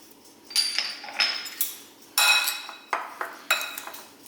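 Chicken wings tossed with curry powder, black pepper and salt in a bowl for oven baking, with a utensil clinking and scraping against the bowl in several separate bursts, close and clear.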